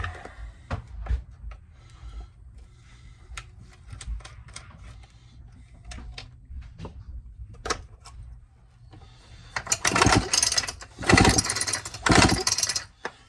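A Pioneer chainsaw with a weak spark is pull-started. Scattered clicks and taps come first, then several loud, rough bursts of cranking fill the last few seconds, close by, with no talking.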